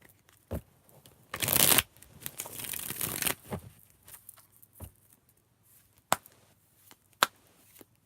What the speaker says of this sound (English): What I'm going to do is I'm just gonna pull out cards